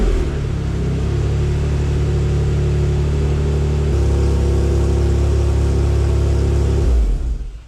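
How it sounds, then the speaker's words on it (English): A Toyota MR2 SW20 swapped with a 2GR engine starts and runs at a steady, loud idle close by with a deep droning hum, then shuts off near the end. "I think the first step I'm gonna take is literally just turn the car on"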